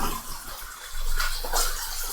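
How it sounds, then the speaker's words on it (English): Baby Bella mushrooms are rinsed under a running kitchen tap, giving a steady close hiss of flowing water with brief splashy surges. "if you run them underwater, which I'm actually going to do"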